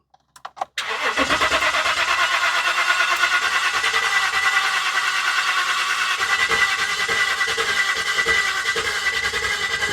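A 2015 Ram 1500 EcoDiesel with a crank-no-start fault cranks continuously without firing, a loud steady whirring starter drone that runs unbroken after a few brief clicks at the start.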